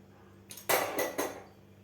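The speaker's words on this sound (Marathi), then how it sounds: "आता झाकण काढून घेऊया." Metal lid taken off a cooled pressure cooker used to cook raw mango, a few close clanks and clinks of metal on metal over about a second, with no talk.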